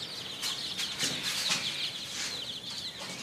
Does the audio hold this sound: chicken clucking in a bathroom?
yes